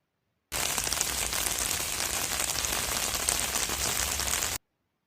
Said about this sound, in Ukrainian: Дощик поливає дерева та кущі, весело стрибає по калюжах